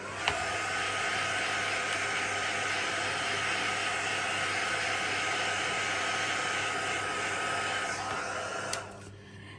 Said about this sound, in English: Just going to hit this with my heat gun for a moment.